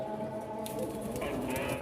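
Pigeons coo in a loft of Rajshahi colour-matching Giribaz and fancy pigeons, a steady layered murmur of low calls running throughout at close range, with a brief flurry of higher sounds near the end.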